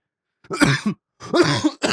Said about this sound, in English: Sorry about coughing.